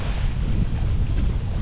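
Strong wind buffets the microphone at a fishing spot on a big bridge over Highway 190, a steady loud low roar with no talking.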